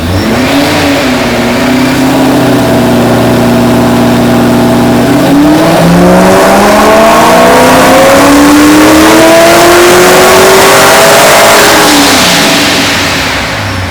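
A supercharged Corvette Z06 engine revs on a dyno, holding a loud steady note before its pitch climbs in a long sweeping pull that rises and then eases off near the end.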